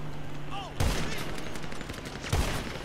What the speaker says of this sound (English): I'm just shooting straight line.